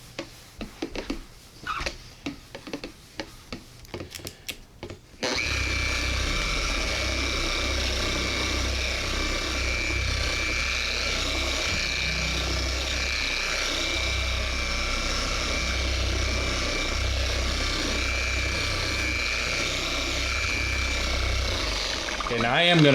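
Boss car polishing machine with a 6.5-inch backing plate running at speed 1, a steady close motor whir that starts abruptly after a few seconds of handling noise and continues evenly.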